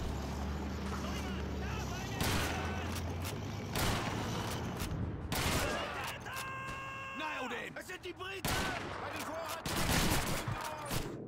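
Call of Duty 2 gunfire crackles in bursts and scattered shots amid battlefield noise, loud and near at times, with a voice talking over much of the action.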